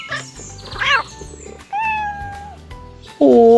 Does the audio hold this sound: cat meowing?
yes